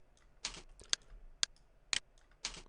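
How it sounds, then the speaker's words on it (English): Bracket keys on a computer keyboard are tapped about five times at an uneven pace, each a crisp, close plastic click in a quiet room. "We can change the brush size by pushing the left and the right arrow keys,"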